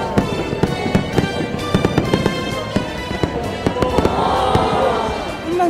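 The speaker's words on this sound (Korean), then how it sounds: "그래서 준비한 불꽃놀이." Fireworks pop and crackle in a rapid series of sharp bursts, with a crowd murmuring and voices in the background.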